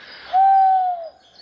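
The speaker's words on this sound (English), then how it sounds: "You can hear an owl in here." A single owl hoot from woodland near an old mine at Westerham, Kent, a smooth sustained tone about a second long, clear and close with no voices.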